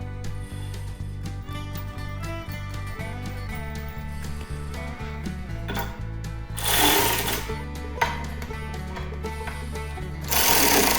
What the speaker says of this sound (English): These electric ratchets,